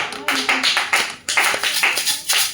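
Lively applause from a church congregation, quick overlapping claps in bursts with a few voices calling out over them.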